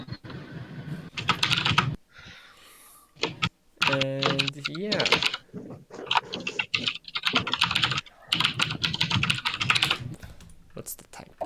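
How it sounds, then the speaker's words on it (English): Keys clack on a computer keyboard in bursts of quick typing, mixed in with people talking over the top throughout. "What's the type? Who's typing?"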